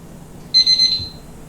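Kitchen timer going off while eggs boil: a single loud, shrill electronic beep lasting about half a second, close and alone over faint room noise.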